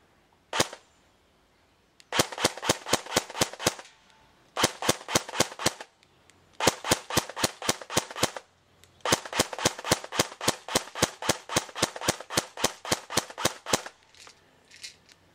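Airsoft DE M89 UMP with a short barrel firing at an outdoor range: several rapid full-auto bursts of sharp, evenly spaced cracks, close and loud, with brief pauses between strings and no talking.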